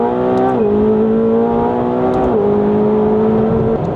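A McLaren 750S supercar engine downshifting, loud and close from inside the cabin, with a steady droning note that drops in pitch in two clear steps as gears change.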